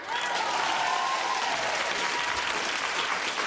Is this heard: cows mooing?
no